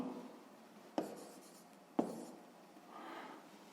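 A pen or pencil writes out the working of a sixth-grade maths exercise, with soft scratching strokes broken by two sharp taps about a second apart, close and fairly quiet, with no talk.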